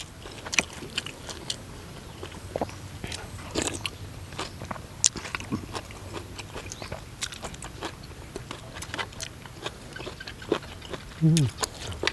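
Crunchy biting and chewing on freshwater snails eaten with laab and fresh greens, a run of close, sharp crunches spread through the meal while people talk now and then.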